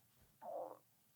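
A single short, muffled stomach rumble, a low gurgling burst lasting under half a second, faint and close against quiet background.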